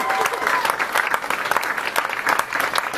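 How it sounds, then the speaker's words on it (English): Loud, dense applause from a comedy-night audience for the comedians, a continuous crowd clapping that stays strong throughout. "a big round of applause for all the comedians"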